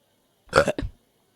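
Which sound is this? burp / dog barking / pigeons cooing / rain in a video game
burp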